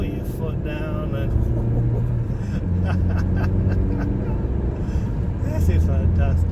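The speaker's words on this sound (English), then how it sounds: "Turn it into the corner and round you go. Change down, put your foot down" A Ford Fiesta Zetec S hatchback accelerates hard through a corner, its engine revving up through a gear change down, loud and close from inside the car, with someone talking over it.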